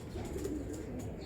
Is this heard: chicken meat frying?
no